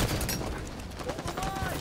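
Shotgun blasts ring out in the Halo 5 Guardians video game, quick rough bursts buried in a dense wash of game noise, with a voice talking over them.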